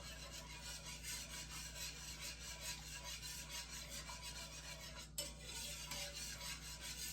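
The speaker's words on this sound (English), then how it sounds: "Stir, stir, stir." Gravy being stirred in a pan over a low flame, a steady scraping and rubbing of a utensil against the pan that runs continuously at close range with no talk.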